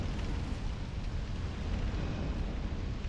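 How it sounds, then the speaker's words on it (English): Continuous roaring blasts from explosions in the Brume Tower area of a Dark Souls-style video game, loud and dense throughout with no voices on top. "If I can't get hit by those explosions."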